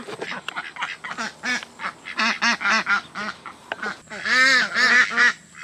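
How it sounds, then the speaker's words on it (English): Baby ducks quack near a garden bed, giving a run of short, bright, rapid calls followed by a louder burst of honking quacks, with no voices over them. "The little baby ducks are out."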